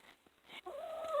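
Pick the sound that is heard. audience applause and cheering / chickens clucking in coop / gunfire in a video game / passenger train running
chickens clucking in coop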